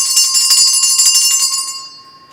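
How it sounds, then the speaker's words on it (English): A bright metallic bell struck rapidly several times in a quick jangling burst, ringing close and loud before the tone decays over about a second. "rang the bell"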